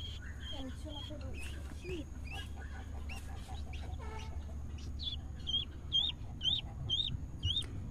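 Hens cluck and chirp in short repeated bursts, with people talking nearby over a steady low background hum.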